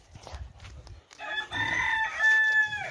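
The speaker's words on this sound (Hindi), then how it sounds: "यहाँ पे मुर्गियाँ घूम रही है" A rooster on a farm in India crows loudly and close by in one long, drawn-out call after a second of low rustling and background noise.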